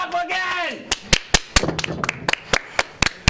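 A voice opens a live show night, then sharp, separate claps ring out one by one at an uneven, fairly quick pace, close and loud, with no steady crowd roar behind them.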